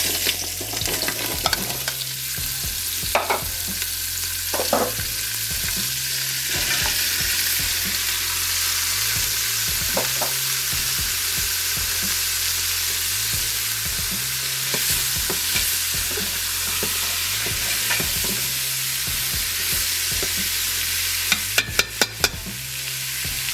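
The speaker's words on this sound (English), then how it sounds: "we can take our onion, celery, and carrots and drop it in this pot and give it a quick saute with some butter" Onion, celery and carrots sauté in butter in a pot, a steady loud sizzle broken by regular scraping stirs every second or two, with a few sharper clinks near the end.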